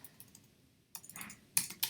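Keys clack on a computer keyboard while code is entered, a few quiet taps followed by two sharper bursts of quick, close keystrokes.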